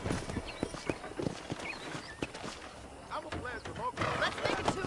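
Horse hooves clip-clop in Red Dead Redemption, a steady series of sharp hoof strikes close by, with a faint whinny and other game sounds mixed in.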